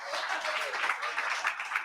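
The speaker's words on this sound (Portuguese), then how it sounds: "Dê um aplauso para elas" Congregation clapping at a Portuguese-language church service, a dense steady patter of many hands filling the space, fairly loud and continuous with a faint voice mixed in.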